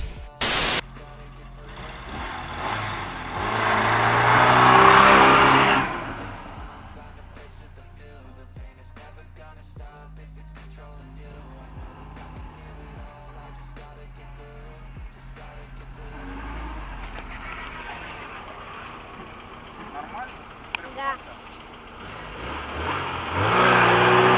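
A Moskvich 2141 engine running as the car drives off, revving up loudly, then settling into a steady mid-pitched hum with gear changes and road noise, rising again near the end, with voices speaking now and then.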